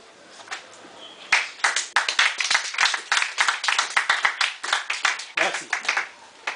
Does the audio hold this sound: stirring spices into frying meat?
no